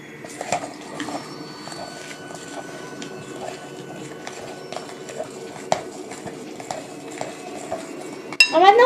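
A utensil stirs chocolate cake batter with baking soda in a bowl, giving repeated light scrapes and clinks against the sides at a moderate, uneven pace, followed by a louder clattering burst at the end.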